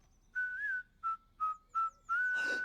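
Someone whistles a short tune: a held note, three quick separate toots, then a final sustained note ending in a breathy rush, close and clear with no talking.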